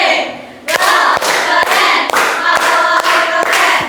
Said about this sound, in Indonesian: Kita beri tepuk apresiasi untuk kelompok 4